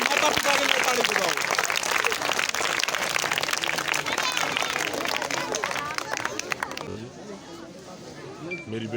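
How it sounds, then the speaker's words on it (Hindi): A village crowd applauds and cheers in honour of a daughter's parents, a dense, sustained wash of clapping and chatter that thins toward the end. "माता पिता के लिए ताली बजाओ।"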